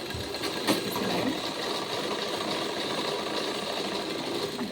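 A sewing machine stitches a blouse with a steady, fast mechanical whirr throughout, close up and moderately loud with no pauses.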